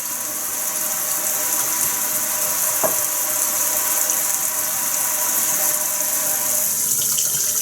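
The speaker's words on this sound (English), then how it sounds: "That's the hot water on its way." Hot water runs from a tap through the pipes of a vintage house, a constant rushing hiss with one sharp pipe click partway through and no talking.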